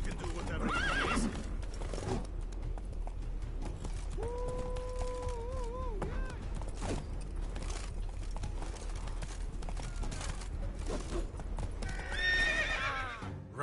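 The horse Roach in The Witcher 3 gallops with rapid hoofbeats throughout, letting out a whinny in the middle and another near the end, with distant voices faintly under the hooves.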